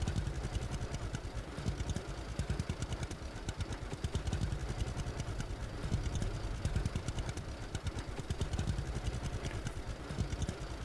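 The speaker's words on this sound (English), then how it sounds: "Yes, the new tractor will be nice, especially just getting up this hill." A 134-horsepower tractor in the video game Lumberjack's Dynasty drives uphill, its engine giving a steady, rhythmic low chugging that stays even and fairly quiet throughout, with no talking.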